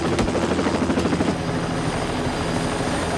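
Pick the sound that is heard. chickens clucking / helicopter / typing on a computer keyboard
helicopter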